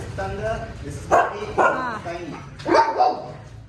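Several loud, close dog barks, including from a husky, come in quick bursts, with yips mixed in and a short pause between groups.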